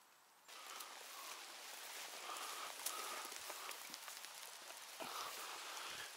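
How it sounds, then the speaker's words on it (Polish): Steady rain patters down across a forest, a dense hiss of drops with occasional heavier splashes, no voices. "coraz bardziej pada. Zresztą chyba słychać."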